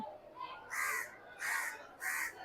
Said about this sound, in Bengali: এই যে দেখেন দুইটা কাক পাশাপাশি